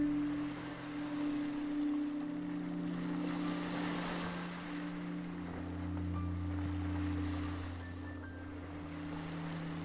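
Relaxing sea waves wash in a steady, continuous surge, with a low hum and some wind noise under a calm relaxation soundscape.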